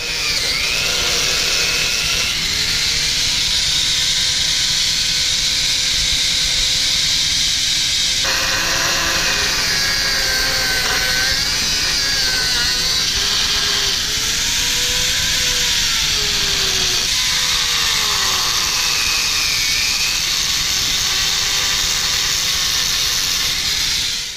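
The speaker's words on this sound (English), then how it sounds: "It's noisy as hell in here because Brian's fabricating a piece to cut these headlights open." Continuous loud workshop noise comes from power tools fabricating a piece for cutting open Jeep Grand Cherokee WK2 headlights, a steady hissing roar with shifting whine tones and no break throughout.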